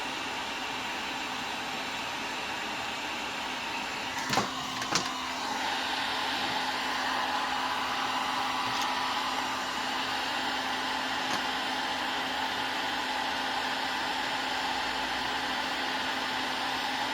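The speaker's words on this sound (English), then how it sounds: "We'll heat this one up real quick and warm it up on one side, and then go back to the other side, get it nice and hot." Heat gun blowing hot air onto a circuit board to loosen solder, a steady, fairly quiet whooshing hiss with a constant motor hum, broken by two brief clicks early on.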